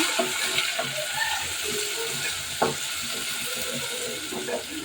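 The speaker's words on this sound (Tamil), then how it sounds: "வெங்காயம், நல்லா வெங்காயத்தை வதக்கிக்கோங்க." Onions sauté in a pan for jeera samba chicken biryani, a soft continuous sizzle with occasional spoon scrapes and small clinks, close and moderate.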